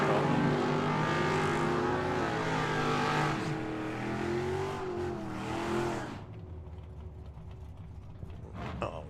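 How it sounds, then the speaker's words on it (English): A fastback Mustang makes a drag racing run at Tucson Dragway, its engine roaring loud and close for about six seconds with harmonic revving before dropping away sharply to quiet track ambience. "Randy in that fastback Mustang goes 136 miles an hour."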